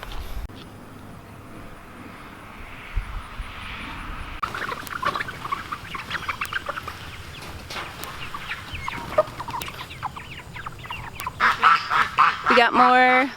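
Ducks quacking and hens clucking in a farmyard, starting faint and growing louder and busier toward the end, with wind in the background.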